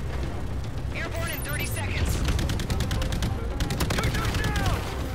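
Bursts of gunfire in the VR shooter Call of Duty: Jackal Assault VR, with rapid repeated shots over dense game noise and a player talking over the action.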